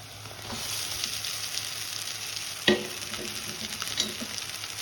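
Crumbled upma drops into a hot pan and fries with a continuous sizzle and soft stirring scrapes, a sharp clatter as it lands near the middle, all close and without talk.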